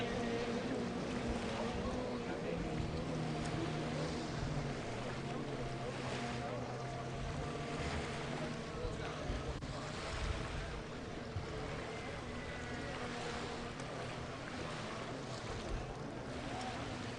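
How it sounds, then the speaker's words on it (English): Kawasaki 550 twin-engine watercraft racing at a race round in Racine, Wisconsin, a continuous buzzing engine drone over water and wind, fairly distant and steady. "Unmistakable 550 Kawasaki twin sound."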